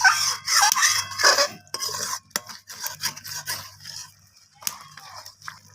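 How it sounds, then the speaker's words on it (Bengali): A ladle scrapes and swirls through boiling dal in a pot, giving a series of close scraping and clinking strokes with short pauses between them, quieter toward the end. "ডালটাকে আমি একটা হাতার সাহায্যে একটু ডালটাকে নাড়াচাড়া করে ডালটাকে একটু ফুটিয়ে নিচ্ছি"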